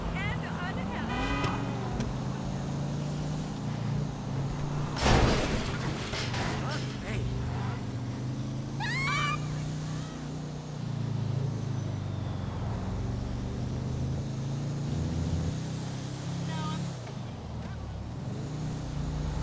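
Car engines hum in light traffic in GTA V, a low, steady drone of vehicles under near-constant talking, with a few brief sharper bursts.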